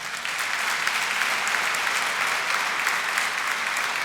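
A church congregation at All Saints in Los Angeles applauds steadily, a close, even patter of many hands clapping with no pauses for the whole short stretch.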